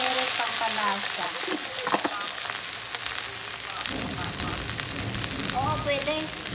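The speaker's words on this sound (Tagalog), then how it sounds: "Basta gisa ko lang. Lagyan natin ng turmeric." Okra stir-frying with turmeric in a pan, a loud continuous sizzle and crackle with scraping stirs near the start, while a voice talks briefly over it.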